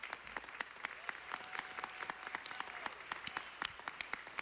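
Audience at a city council meeting applauding, a steady patter of many hands clapping at moderate distance, fairly quiet in the room, with a faint voice underneath.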